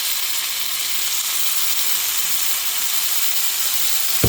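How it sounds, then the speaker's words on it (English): Yogurt-marinated chicken fries in olive oil in a pan, giving a loud, steady, close sizzle and hiss that stays even throughout. "We're going to go ahead and get our chicken frying. Now just, yep, straight to the pan, yogurt and all."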